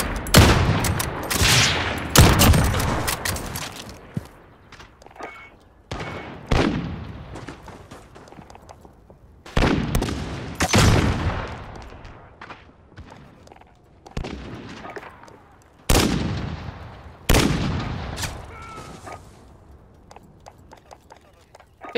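Video game gunfire rings out in repeated loud bursts, each shot cracking sharply and trailing off, with spaced volleys across the stretch and someone talking at times.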